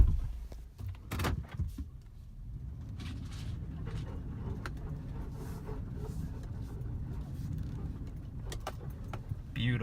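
A parked pickup truck in a wooded rural meadow gives off a sharp door clunk and brief rattles early, then a low steady hum with faint mechanical whirs and small clicks, close and moderate in level.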